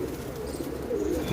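Pigeons at their coop, with the birds let out to fly. Soft cooing calls rise and fall over a steady outdoor background, close by and moderately loud.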